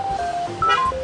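Telephone keypad tones, a run of short steady beeps at changing pitches in quick succession, heard over a faint background hum with no talking.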